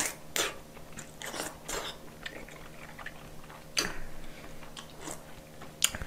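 Fish cake (eomuk) being chewed while eating tteokbokki, with soft, irregular close-up chewing and biting clicks spread across the clip, a few sharper crunchy bites standing out above a quiet background.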